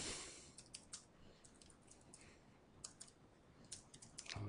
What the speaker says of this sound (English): Just click on company name and type in BackupEarth.com